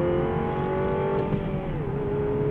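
A 2017 MINI Clubman JCW engine drones steadily on track at Road America, heard close from inside the car. The engine tone dips briefly as the driver shifts.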